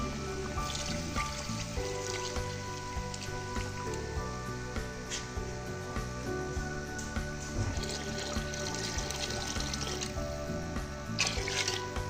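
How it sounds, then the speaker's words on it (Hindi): Water poured into a pot of spiced, softened potatoes while making aloo pulao, a continuous trickling pour heard under steady background music. "अब हम इसमें डालेंगे पानी।"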